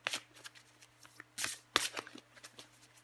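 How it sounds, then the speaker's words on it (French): Tarot cards are shuffled by hand up close, giving quick papery riffles and soft flicks in uneven bursts, with no talking. "Je vais encore tirer une carte pour vous, les poissons."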